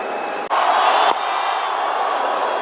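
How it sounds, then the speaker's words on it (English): Stadium crowd at a 2012 T20 international cricket match between India and Pakistan in Bangalore, cheering for a young bowler: a steady, continuous roar with a brief sharp lift near the start, fairly loud and sustained throughout. "Wonderful to see crowd backing a young bowler here."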